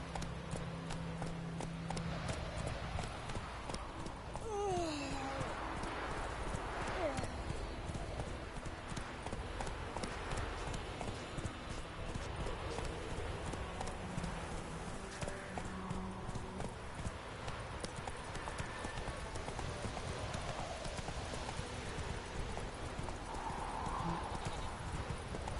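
Roach the horse gallops through The Witcher 3 video game, steady clip-clop hoofbeats rolling on throughout with an occasional whinny, set against a constant game soundscape.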